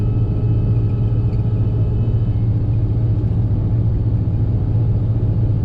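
A combine harvester rumbles steadily through a wet patch of a corn field, its heavy engine droning loud and close with a constant low hum throughout.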